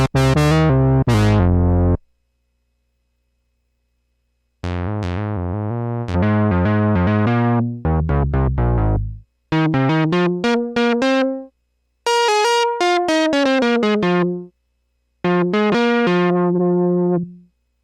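A Roland SE-02 analog synthesizer plays a preset in short, punchy phrases of bright, buzzy notes, separated by brief silences and growing higher toward the end.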